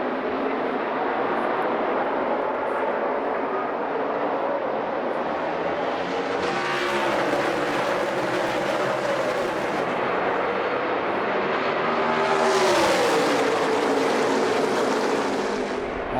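NASCAR Sprint Cup race cars accelerating on a restart at Kansas in the 2014 Hollywood Casino 400, a loud massed engine roar that rises and swells twice as the field passes, with no talking.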